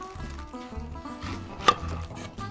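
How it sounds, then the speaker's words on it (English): Onions being cut with a knife on a board in a home kitchen, giving a series of soft, irregular chops and scrapes with one sharper knock partway through. "let's get these onions cut"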